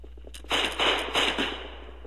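Musket line firing in Battlegrounds 2 video game, a ragged volley of several close, loud cracking shots in quick succession, each trailing off briefly.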